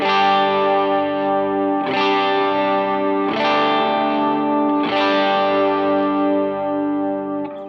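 An electric guitar runs through MIDI-switched effects presets on a MorningStar 8 pedalboard: four sustained, distorted chords, each swelling and ringing out with chorus and echo, loud and alone with no talking.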